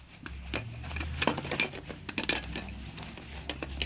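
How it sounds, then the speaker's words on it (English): Camping gear, including a titanium spoon, is handled nearby in a faint rustling patter with light metallic clinks and taps scattered through the few seconds. "This is gonna be a titanium spoon."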